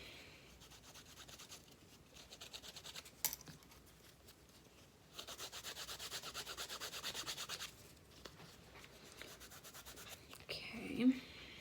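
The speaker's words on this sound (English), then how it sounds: "where you burnish down." Leather edges being burnished for an Apple Watch strap, soft close rubbing in two sustained bursts separated by quieter handling, with a sharp tap and faint shuffling.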